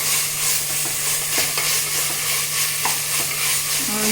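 Ginger garlic paste frying in ghee for ghee rice, a steady sizzle with occasional stirring scrapes and clinks in a pan, close and continuous with no talk.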